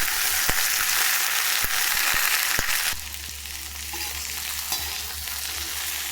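Okra sautéing in a little oil in a hot pan: a loud, continuous sizzle with sharp ticks of stirring, easing slightly halfway through, with no talking.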